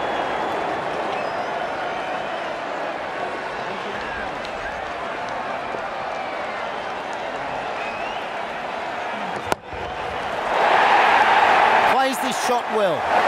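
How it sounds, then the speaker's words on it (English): Crowd noise in the cricket video game Ashes Cricket during a New Zealand versus South Africa World Cup match, a steady stadium roar under commentary that swells into louder cheering near the end. "The crowd on their feet."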